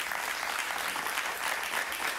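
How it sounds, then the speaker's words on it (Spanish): An audience applauding on a talk show, a dense, even wash of clapping at moderate volume that holds steady for about two seconds with no voices. "un aplauso para ella"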